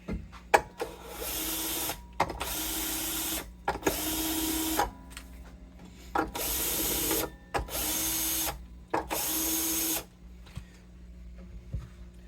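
A Bosch power drill unwinds the strings from the tuning pegs of a Gibson J-45 acoustic guitar, giving about six short, close whirring bursts separated by brief quiet gaps, with no speech.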